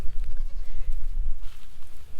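A pregnant doe goat, bred to a meat-goat and Nigerian Dwarf cross buck, bleats repeatedly in loud, close, wavering calls over rough background noise on a homestead.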